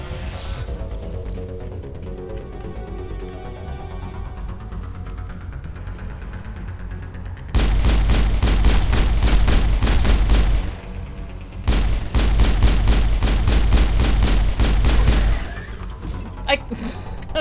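Grenade blasts in Mass Effect arrive as two long stretches of loud, dense booming and crackling gunfire-like bursts, coming after a quieter stretch of game ambience.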